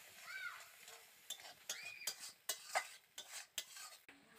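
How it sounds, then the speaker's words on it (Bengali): Spice masala with cumin powder being stirred and sautéed in a pan, a spoon scraping and clinking in uneven strokes over a faint, quiet sizzle. "এবার ভালো করে কষিয়ে নেব একটু"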